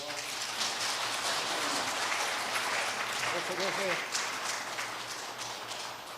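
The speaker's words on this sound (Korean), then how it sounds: "박수 한번 주세요." Audience applause at a church ceremony for a happy academy graduation, steady broadband clapping from a room of people running throughout, with a brief voice heard partway through.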